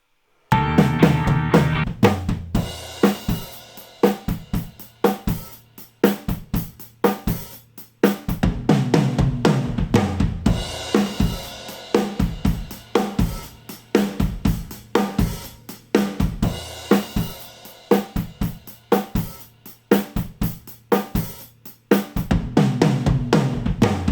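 A full drum mix plays back with punchy kick and snare hits in a steady groove, loud and continuous, with no voices.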